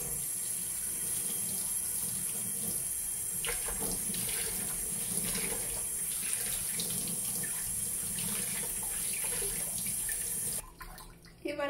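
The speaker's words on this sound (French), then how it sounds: "Je viens rincer à l'eau claire." Running tap water steadily rinsing a Beauty Blender makeup sponge at a sink, a continuous close splashing flow that cuts off near the end.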